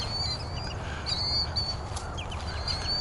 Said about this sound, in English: All these killdeer passing by.